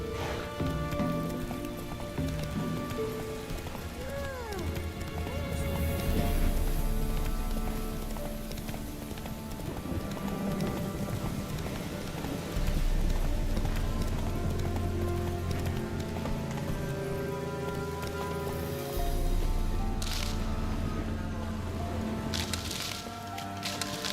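Horse hooves clip-clop in a rapid gallop rhythm in The Witcher 3 game, with moderately loud repeating thuds that come in waves over a soft continuous background.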